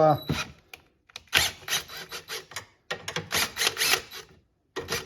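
A socket ratchet loosens a 10 mm nut on a 2011–2020 Toyota Sienna, giving bursts of quick, raspy clicking strokes separated by brief pauses, close and moderately loud.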